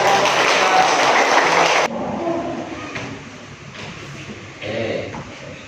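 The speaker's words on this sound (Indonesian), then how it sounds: "kita berikan apresiasi aplaus yang meriah untuk teman kita" A classroom gives a classmate a lively burst of clapping that fills the room for a couple of seconds, then stops abruptly, leaving quieter room sounds and scattered noise.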